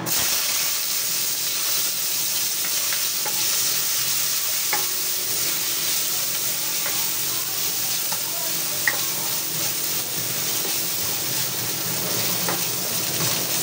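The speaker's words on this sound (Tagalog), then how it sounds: "gigisa na po natin yung ating luya" Ginger sautéing in hot oil in a pan, a loud, dense, continuous sizzle and hiss with a few faint spatula taps, close up and steady throughout.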